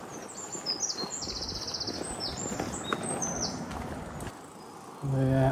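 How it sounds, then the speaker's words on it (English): Birds chirp and trill along a countryside road through villages in hot summer weather, several high bright calls over steady rolling road noise from a moving bicycle, with a louder low hum near the end. "Can you hear the birds?"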